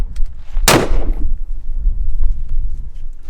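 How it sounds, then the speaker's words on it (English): A single loud shotgun blast at a shooting range: one sharp, close report that rings out briefly, then fades into low rumbling background noise. "it actually muffled the shotgun sound"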